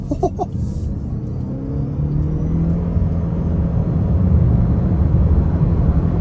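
A 2023 Mitsubishi Outlander PHEV SE accelerating hard after a sharp turn, heard as a steady rising whir and rumble that grows louder across the clip, with a few knocks at the start.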